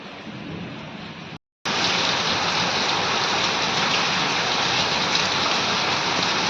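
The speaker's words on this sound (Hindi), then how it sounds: "तो देखा आपने कितनी बारिश हो रही है" Heavy monsoon rain pours steadily during a Janmashtami celebration in India, a dense, continuous hiss that stays loud throughout apart from one brief cut near the start.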